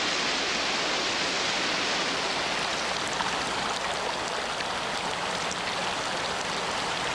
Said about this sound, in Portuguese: As comportas se abrem e deixam a água passar de um nível para o outro